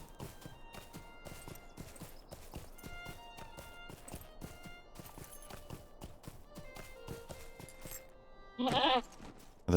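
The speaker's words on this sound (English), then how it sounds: "was I riding my goat?" Hooves clip-clop in a rapid steady rhythm as a goat mount is ridden in the online game Lord of the Rings Online, with tonal game music underneath and a brief bleat-like burst near the end.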